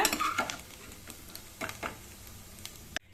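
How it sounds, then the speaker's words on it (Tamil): Grated coconut and cashews roasting in ghee in a pan: soft scraping stir strokes over a light sizzle, close and fairly quiet, cut off abruptly near the end with no speech. "இந்த தேங்காயை நம்ம வறுத்து எடுத்துக்கலாங்க. இதுலயே முந்திரியும் போட்டுக்கலாங்க"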